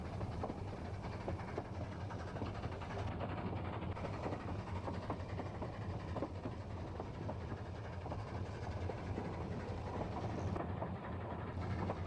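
A Ffestiniog Railway steam train climbs a 360-degree spiral above a reservoir in the UK, giving a steady, moderately loud rumble of wheels and carriages with faint rhythmic clatter and no voices.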